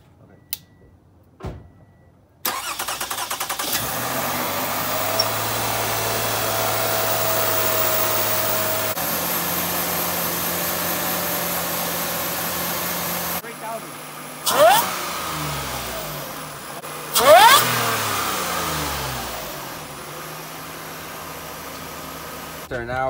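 A supercharged 2015 Toyota Sienna minivan engine is started and idles with a steady mechanical drone, then revs up in a couple of rising, whining bursts, heard close with voices speaking intermittently.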